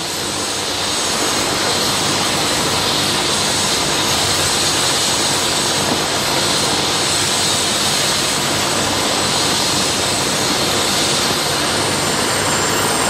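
A Lifeline medical helicopter running at a scene, a loud, steady broadband roar of turbine and rotor noise that holds constant without a break.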